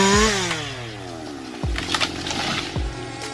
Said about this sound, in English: With a fast and sharp chainsaw like the Husqvarna 560 XP, he can easily complete the job of sawing trees quickly and efficiently.